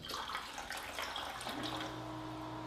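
Alkaline ionized water from a K8 water ionizer poured into containers, a close, steady splashing pour that fades into a faint lingering trickle, with no talking.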